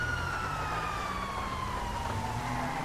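Police car siren in the GTA V video game, a steady wailing tone sliding slowly downward, loud and continuous throughout against a dense engine and street rumble.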